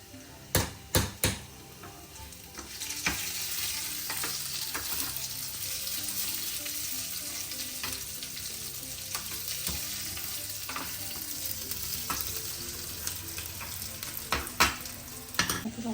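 Onions fry in a pan for a Kerala coconut dal curry, giving a continuous close sizzle. A few sharp spoon knocks against the pan come at the start, and occasional stirring clatters follow.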